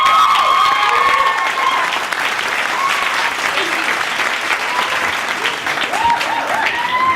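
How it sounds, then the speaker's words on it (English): Strong applause from an audience at a live poetry event, loud at first and fading slightly, with whoops and voices calling out over the clapping. "give another round of applause"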